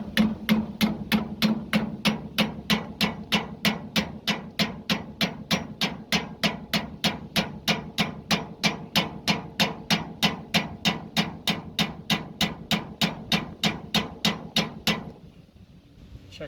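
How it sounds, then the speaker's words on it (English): Hammer knocking a plastic polyethylene bushing into the equalizer of a car hauler trailer, sharp metallic blows repeating at a steady rapid rhythm, close and alone, stopping just before the end. "I have to press it or knock it with a hammer down here."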